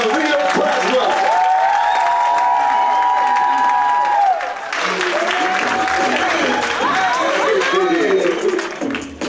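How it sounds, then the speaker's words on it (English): An audience at an NC State live event applauds speaker Kalia Braswell with a dense, sustained wash of clapping and cheers, while a voice carries on over the crowd noise throughout. "please give a thunderous round of applause for Kalia Braswell"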